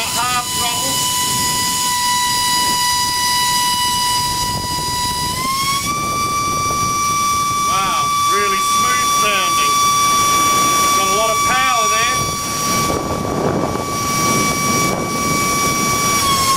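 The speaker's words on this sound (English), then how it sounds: "What does the fan sound like? Let's give it a go." The electric ducted fan of a UMX Habu 180 DF RC jet spins up to a high, steady whine with a sustained tonal hum that steps up in pitch partway through, close and loud, with chirpy sounds mixed in.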